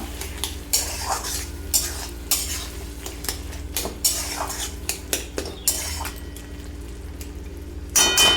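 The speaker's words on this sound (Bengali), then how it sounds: "দিয়ে একটু নাড়াচাড়া করে নেব" A metal spoon stirs vegetarian bottle gourd curry in a pot after sugar is added, giving repeated scraping clinks and clangs at an irregular rhythm, close and fairly loud, with a faint sizzle beneath.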